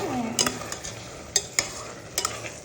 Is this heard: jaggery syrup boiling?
yes